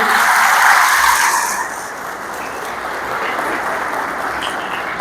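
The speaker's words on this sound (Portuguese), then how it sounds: "Palmas para as crianças, gente." Church congregation applauding children during a homily, a dense wash of clapping that is loudest at first, eases slightly after two seconds and then carries on steadily.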